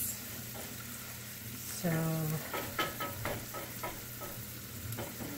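Onions frying in a pan for a vegetarian breakfast pizza, a steady close sizzle with brief stirring scrapes and a short voice spoken over it.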